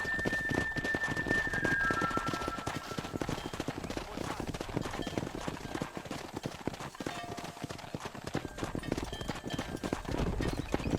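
Horse hooves clip-clop in the Western video game Red Dead Redemption, a steady rhythmic trot with game ambience underneath, close and moderately loud throughout.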